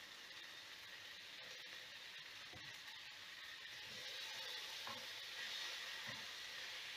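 Chicken sizzling and frying in a pan for a Chinese-style dish, a steady broadband hiss with occasional stirring knocks, moderately close and growing slightly louder, no talking.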